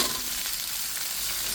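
Papaya pieces and vegetable stems sizzle steadily in hot frying oil in a home kitchen, a continuous close hiss with light stirring and no talk.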